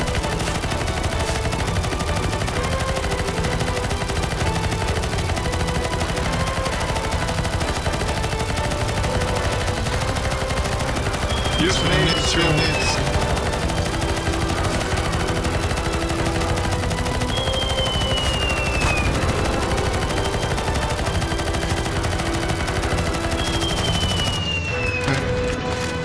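Rapid gunfire from zombie-escape shooting in the game CS:GO, a dense continuous barrage of automatic shots under loud game ambience, with a few whistling streaks over the steady roar.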